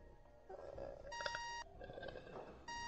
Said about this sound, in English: Why is it beeping?